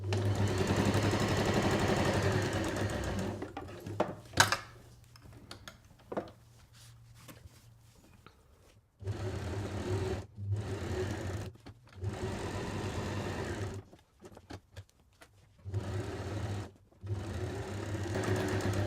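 A sewing machine stitches a straight seam along a kitchen towel, its steady rapid whirring running in several long stretches separated by short pauses and quiet gaps, close and without voices.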